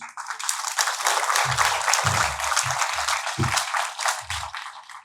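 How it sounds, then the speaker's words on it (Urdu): An audience at the Dayar e Ishq 2025 gathering breaks into loud, sustained applause as a guest arrives at the dais, dense clapping rising quickly and holding, with a few low thumps beneath. "آپ کی تالیوں کی گونج"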